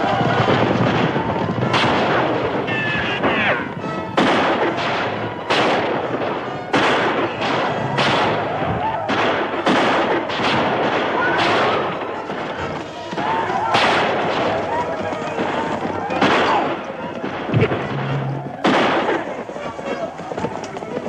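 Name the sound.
gunfire in a western movie battle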